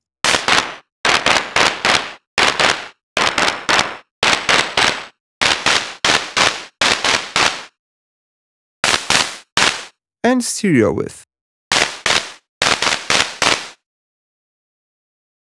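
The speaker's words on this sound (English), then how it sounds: "you can also adjust the timbre of the noise burst" Synthesized noise bursts from the CL4P Maker instrument fire in quick rhythmic groups of sharp, loud cracks like gunshots or firecrackers, with gaps between groups and one warbling swept burst near the end. A brief spoken phrase occurs.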